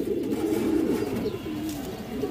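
A low, continuous rolling coo comes from a pure green-necked female pigeon, close by and even in level, running without a break over a quiet background.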